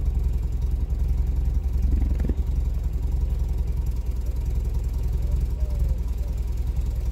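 A cold MGB engine idles slowly at low revs, around 500 rpm, with no choke, giving a steady low rumble and faint ticking throughout, with no voices over it.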